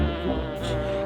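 A bee buzzes steadily and loudly for about a second, a continuous close-up drone with no speech over it.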